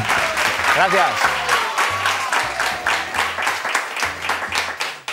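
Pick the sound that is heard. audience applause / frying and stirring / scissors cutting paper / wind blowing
audience applause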